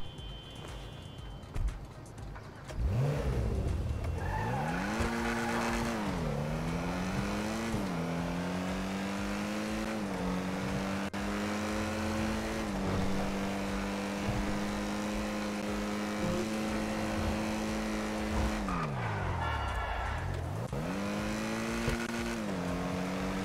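A sedan's engine in GTA Online revving up and down through repeated rises and drops in pitch, loud and close, with a short quiet stretch at the start and no talk.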